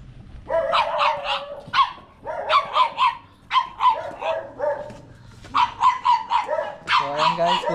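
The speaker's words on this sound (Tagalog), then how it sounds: "pasensya na yung may mga aso. Maingay." Several dogs bark loudly and repeatedly at close range in bursts of quick, sharp barks with short pauses, and a whimpering yip near the end.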